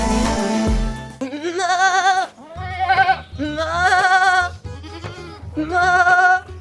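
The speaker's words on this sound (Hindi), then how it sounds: "उस बकरे से बड़ी स्मेल आ रही है और इस तरह की आवाजें आ रही हैं।" A billy goat bleats in a few loud, wavering cries, and each call is followed by the next after brief pauses. The animal is close and sounds alone, with a short burst of other noise at the very start.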